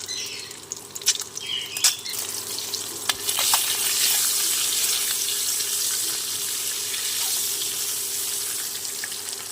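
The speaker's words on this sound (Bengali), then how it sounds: "ডিমগুলি লাল করে ভেজে নিতে হবে" Eggs seasoned with salt and turmeric fry in a pan, giving a continuous close sizzle, with a few sharp stirring clicks early before the frying settles into a steady hiss.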